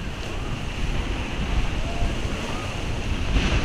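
Wind and surf roll steadily at Wongamat Beach near Pattaya, a dense continuous roar with gusty buffeting on the microphone and no clear talking.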